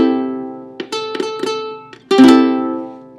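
Several strums on a ukulele with all four strings open, a few quick strokes in a loose rhythm followed by a stronger one left ringing, close and clear with no talk.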